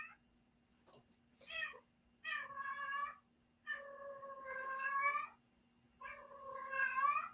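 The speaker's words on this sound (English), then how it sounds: "Can you hear my cat?" A house cat meows repeatedly indoors, four drawn-out, fairly loud calls with short pauses between them and no talking, against a faint steady hum.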